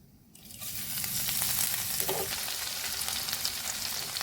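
Crushed ginger, white cumin and whole garam masala spices, cardamom and cinnamon, drop into hot oil and burst into a loud, steady close sizzle that keeps frying with no talk.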